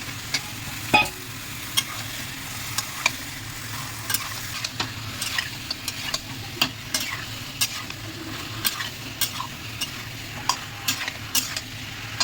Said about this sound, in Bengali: ভালো করে আমি মিশিয়ে নিয়েছি ভালো করে নাড়িয়ে দিয়েছি